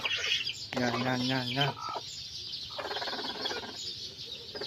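Two hens cluck in a nest holding newly hatched chicks, with throaty calls close by and faint peeping over a steady background hiss.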